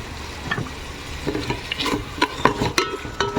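Two large tomatoes with a little salt are stirred in a pan for mushroom biryani, giving a soft sizzle with a run of sharp spatula scrapes and knocks that grow louder toward the end, close by with no talk.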